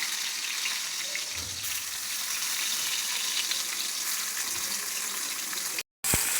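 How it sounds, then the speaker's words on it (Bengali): Continuous crackling sizzle of sliced bitter gourd frying in hot oil on a griddle, steady and close, with a brief dropout near the end. "করলাগুলো দেওয়া শেষ এখন ভাজা পর্যন্ত ওয়েট করব"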